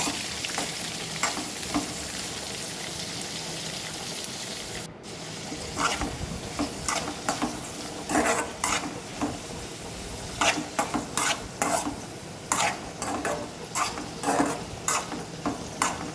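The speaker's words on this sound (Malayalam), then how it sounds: "ഇത് നന്നായി ഒന്ന് ഇളക്കി യോജിപ്പിക്കണം" Squid and chopped onion fry in a pan for a squid roast, a steady sizzle broken by repeated stirring scrapes and clinks that grow more frequent in the second half, with no one speaking.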